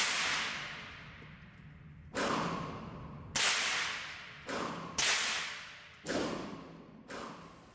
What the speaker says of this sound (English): I hope you're impressed with how quiet this gun is with the rugged Obsidian 9mm suppressor attached.